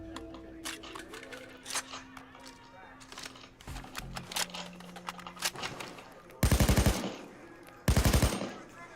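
Two loud, rapid bursts of automatic friendly gunfire in the heist video game Payday 2, each under a second long and close together near the end, following a stretch of speech and lighter game sounds.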